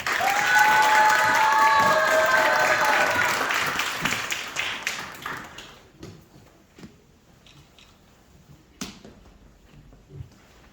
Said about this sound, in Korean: 힘찬 박수로 맞아주세요